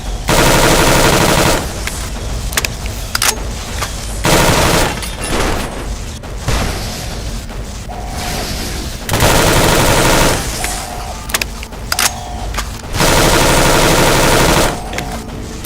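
Rapid bursts of automatic gunfire and heavy booms in the Fallout New Vegas Lonesome Road game, loud and close, firing in repeated sustained volleys with short pauses between.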